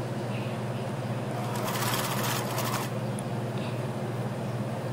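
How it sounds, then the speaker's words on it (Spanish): A sewing machine runs a zigzag stitch, attaching stretched elastic to the waistband of shorts or trousers, humming steadily with a brief louder rattling burst midway. "a medida que vamos estirando la elástica y cosemos con un zigzag"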